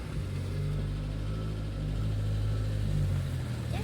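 A Nissan Pao with a manual gearbox pulling away, its engine giving a steady low mid-pitched drone that holds close and even throughout, with no talking.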